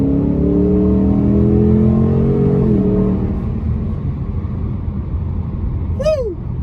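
A Dodge Challenger Scat Pack wide body runs nearby with a loud, droning engine note that shifts pitch as it accelerates and then settles, ending with a short high squeak.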